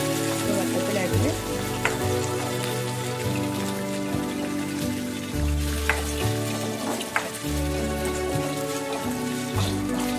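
Curry leaves and sliced shallots fry in hot oil in a pan, giving a steady close sizzle and crackle throughout, with faint stirring clinks and no talk.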